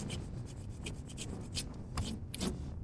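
Rust being scrubbed off a galvanised copper 12-volt battery terminal in an engine bay, giving quiet close rasping strokes in an irregular rhythm of short bursts.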